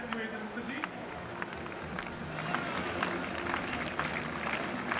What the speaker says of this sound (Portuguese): Esses aplausos, essas palmas, né, no compasso, são para quem vai saltar.